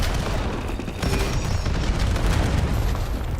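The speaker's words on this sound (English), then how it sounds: "Eyes on enemy cluster grenade" A cluster grenade going off in Call of Duty as a dense, continuous roar of overlapping blasts and crackling detonations, loud and sustained throughout with no talking.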